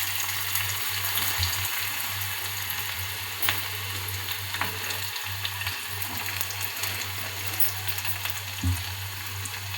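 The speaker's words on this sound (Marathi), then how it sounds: "कांदा हा मस्त असा ब्राऊन होईपर्यंत भाजून घेऊया" Onion frying in a pan until browned, a constant close sizzle with small pops and occasional clinks, over a low steady hum.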